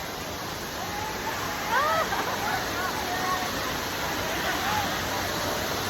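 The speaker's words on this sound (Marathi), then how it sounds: "आपण धबधबा बघू शकतो की ती अप्रतिम दिसतोय" Savdav waterfall near Kankavli roars as a constant, dense rush of falling water, with crowd chatter and a voice talking over the steady torrent.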